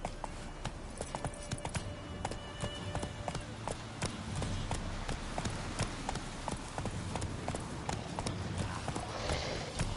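Hooves of a horse clip-clopping steadily in the video game The Witcher, a brisk, regular run of hoofbeats heard fairly close with faint game ambience behind.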